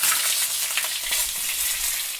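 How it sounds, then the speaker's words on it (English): Food frying in a pan gives a steady, close hiss of sizzling, with scattered small pops and crackles, heard alone without any voices. "Sizzle."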